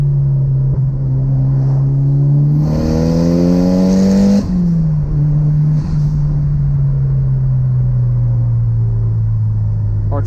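Porsche 944 turbo engine pulling at wide open throttle from inside the car, a loud rising drone that peaks with a sharp hiss, then drops and eases to a steady cruise.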